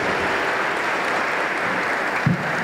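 Dense, loud applause fills the hall at the 2017 Melhores Empresas corporate awards as a company is honoured, many hands clapping in a steady wash with a brief low thump near the end.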